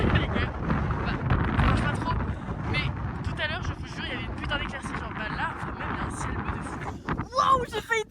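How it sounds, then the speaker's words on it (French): Strong wind at a lagoon at 4,500 m altitude buffets the microphone in a steady, loud roar, with a voice speaking through it and a harder gust near the end. "Il y a beaucoup de vent."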